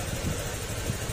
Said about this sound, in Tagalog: tinitesting muna natin yung makina niya